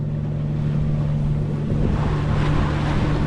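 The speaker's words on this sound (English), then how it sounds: "the engine's quitting on us here" A sailboat's inboard engine drones steadily on open water off Catalina Island, a low harmonic hum with wind and wave wash, its tone roughening toward the end as the engine begins to falter from a likely fuel delivery problem.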